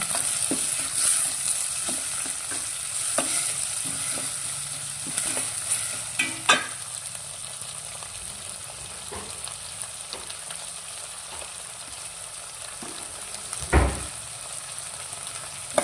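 Ginger garlic paste fries in a pan for a brinjal curry, with a steady sizzle broken by repeated spoon scrapes and taps from stirring and a few louder knocks, close up and without talk.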